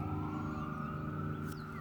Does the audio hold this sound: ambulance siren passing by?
yes